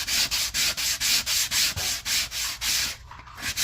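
Hand sanding of a dried drywall patch compound: steady rhythmic back-and-forth scraping strokes, about three per second, close and fairly loud, with a brief pause near the end and no talking.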